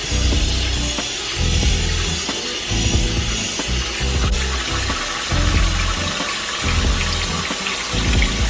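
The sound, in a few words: washing produce under a running water tap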